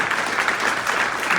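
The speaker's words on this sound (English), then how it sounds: "yeah, that's an applause" Audience applause at a Grand Valley State University marching band concert, a steady broadband wash of clapping that fills the whole moment at an even, moderately loud level with no gaps.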